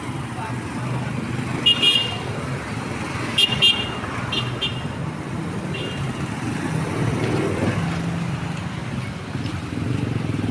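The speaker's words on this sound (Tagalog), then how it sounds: "Traffic. Traffic na traffic." Busy road traffic in Midsayap, with cars and buses rumbling steadily nearby and short horn toots at intervals; people's voices can be heard over the traffic.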